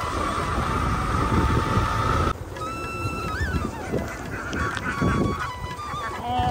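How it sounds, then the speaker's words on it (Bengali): A flock of ducks honks and quacks outdoors at dusk, a dense run of calls, fairly near, over a constant background rumble. "এক গাধা হাঁস"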